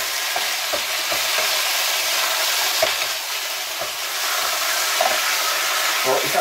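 Chicken pieces frying in a hot pan for a chicken, broccoli and zucchini pasta, with a steady, continuous sizzle and crackle and a few sharper pops and stirring scrapes, close and fairly loud.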